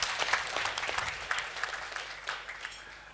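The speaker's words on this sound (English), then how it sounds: "Let's give her a round of applause." An audience claps steadily, a dense patter of applause that holds for a few seconds, then gradually softens.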